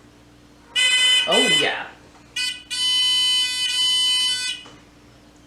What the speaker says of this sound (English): we're going to make the buzzer buzz